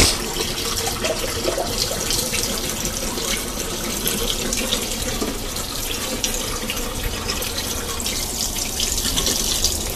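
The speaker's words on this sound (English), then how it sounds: "get my water running over here." Steady stream of water running from a tap, continuous and close, splashing into a jug with no pauses or voices.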